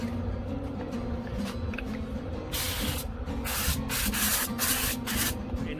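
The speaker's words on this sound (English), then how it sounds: "I'm going to spray them down with some duck fat." Duck fat is sprayed onto chicken wings for a Pit Boss pellet grill in several short hissing bursts, close and bright, over a steady low background rumble.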